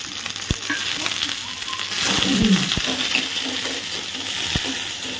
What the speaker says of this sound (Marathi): फुल गॅसवरच परतून द्यायचं आहे, म्हणजे मोठी फ्लेवर येईल आपल्या चिकनला